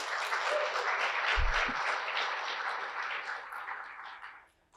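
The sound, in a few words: applause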